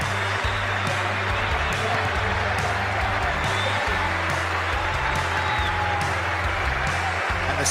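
A Sydney cricket crowd applauds Graeme Smith as he comes out to bat for his country, a sustained wash of many hands clapping with a commentator's voice running over it.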